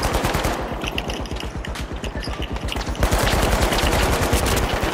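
An AK rifle in a video game fires in rapid automatic bursts, loud and close, with a steady stream of shots that briefly thins and then surges again.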